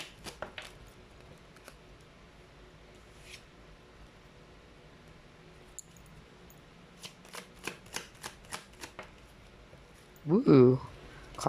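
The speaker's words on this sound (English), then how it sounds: "cards are flying out" Tarot cards are riffled and shuffled by hand at close range, soft flutters and snaps in scattered bursts, ending in a quick louder flurry as cards spill out.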